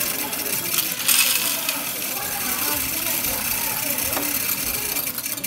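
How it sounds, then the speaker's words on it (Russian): A coin counting machine runs steadily, with a dense rattling jingle of coins pouring into a bag under a low motor hum for several seconds. "Посчитанные монеты попадают в мешок, а на экране машина показывает их количество."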